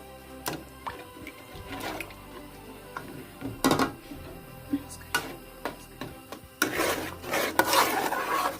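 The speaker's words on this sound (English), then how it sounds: "keep stirring until the milk becomes dry" Milk suji halwa mixture stirred with a spoon in a pan over a medium flame, giving irregular scraping and rasping strokes with a few sharper knocks, growing busier and louder near the end.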